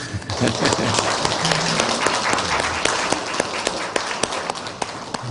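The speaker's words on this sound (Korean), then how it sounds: "우리 박수 하겠습니다" Applause from a university chapel congregation during a Lent service, dense steady clapping filling the whole stretch at close range with a few murmuring voices underneath.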